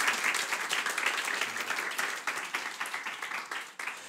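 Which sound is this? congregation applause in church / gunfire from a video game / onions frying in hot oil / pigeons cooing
congregation applause in church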